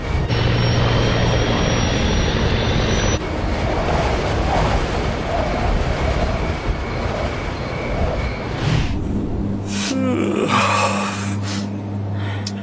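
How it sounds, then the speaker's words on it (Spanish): Airliner on approach to Buffalo airport near Clarence Center with flaps extended and slowing, a loud steady roar of engine and airflow that shifts in tone partway through, with a low hum later and no talk. "Al desplegar los flaps, el avión disminuye su velocidad hasta alcanzar la velocidad final de aproximación"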